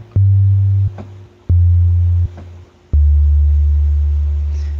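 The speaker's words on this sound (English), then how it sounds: "It's called a sine wave." A pure synthesizer sine wave tone sounds in several separate held notes, loud and smooth, with short gaps between them and a longer final note that slowly fades.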